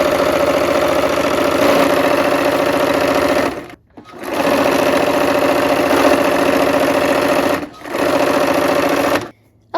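Quilt pieces run through a sewing machine in loud, steady bursts of fast, even stitching. The motor whirs continuously for several seconds, stops briefly twice, then restarts, close up and with no voices.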